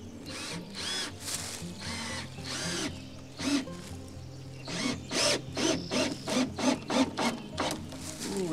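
A power drill driving 2.5-inch screws into scrap wood for shed stairs, close and loud whirring in repeated bursts that end in a rapid pulsing chatter as the screw seats.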